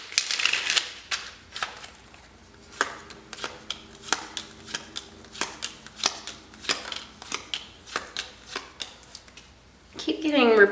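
Repeated crisp tarot card shuffles, a steady run of short riffling bursts close to the mic, with a brief voice near the end.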